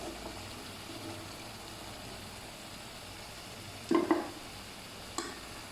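Poa fish fries in hot oil with a continuous low sizzle, broken by a couple of short, sharp scrapes and clacks as the pieces are lifted out of the pan.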